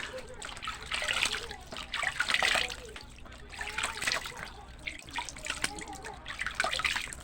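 Running water splashes and trickles as a face is rinsed during a night skincare routine, a steady close wash of water with brief bursts of louder splashing.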